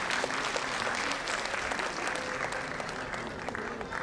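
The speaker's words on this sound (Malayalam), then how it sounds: "നിറഞ്ഞ കയ്യടി പ്രതീക്ഷിക്കുന്നു." Steady, dense applause from an audience at an Onam celebration, holding at an even level throughout with no voices standing out.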